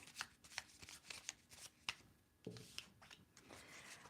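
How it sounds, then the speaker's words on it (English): Tarot cards being shuffled close up, a string of crisp riffles and soft flicks in an uneven rhythm, quiet and alone with no talk. "One more shuffle."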